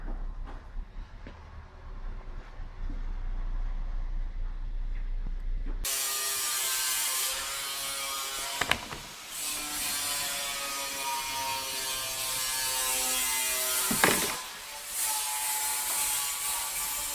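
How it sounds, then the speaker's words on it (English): Ratchet wrench clicking as 10mm bolts are loosened on a Toyota Yaris during a water pump replacement, a steady close-up pawl rattle with a couple of sharper knocks, no talking. "You're going to want to remove them 3 bolts, and they're 10mm."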